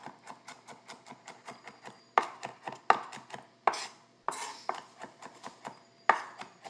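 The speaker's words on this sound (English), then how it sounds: "just finely mince my garlic" A kitchen knife finely minces garlic on a cutting board, fast rhythmic taps in quick bursts with a few sharper, louder chops, close by and with no talking.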